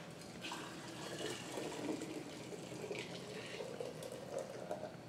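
Fresh tomato juice poured from a pot into a canning jar, a steady, close, continuous liquid pour with no talking.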